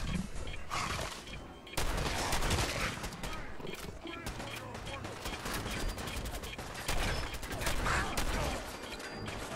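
Gunfire in Fallout 4 during a power armor fight against super mutants: rapid, dense bursts of shots and impacts layered over game effects, with a voice talking over the action.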